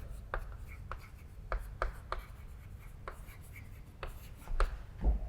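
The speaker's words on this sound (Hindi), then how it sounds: "तो हम सबसे पहला लिख लेते हैं वेक्टर" Marker or chalk writing on a board during a lecture on vectors, a series of distinct short strokes and taps in an uneven rhythm, fairly close, with no speech over it.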